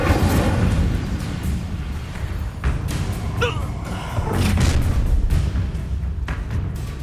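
Spell effects from the Hogwarts Legacy video game, including the Incendio fire spell, sound as dense overlapping whooshes and bursts with thumping impacts amid constant loud combat audio and voices.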